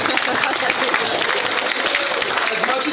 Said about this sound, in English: And can we also give our panel of judges a wonderful round of